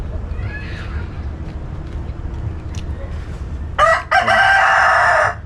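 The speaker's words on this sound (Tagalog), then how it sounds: "Ingay ng manok na to." A rooster crows loudly and close, one long strained call rising over steady low background rumble after several seconds of quiet ambience.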